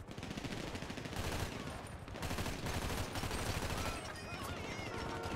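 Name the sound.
gunfire in GTA roleplay video game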